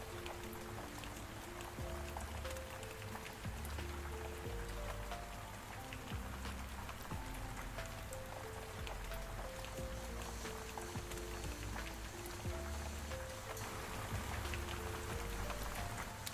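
Steady rain sound effect playing under a chill art livestream, a constant dense patter of drops on a surface, even and unbroken throughout, with soft musical tones beneath.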